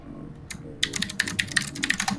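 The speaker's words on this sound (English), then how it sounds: "I love my keyboard. It's an MX Green." Typing on a mechanical keyboard fitted with MX Green switches, a quick run of crisp, close clicky keystrokes after a couple of isolated presses, with no one talking.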